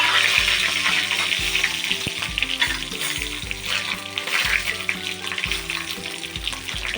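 Mustard seeds, cumin, dried red chillies and curry leaves crackle and sizzle steadily in hot oil as a tempering for tamarind chutney, a dense continuous fry with faint clinks underneath and no talk.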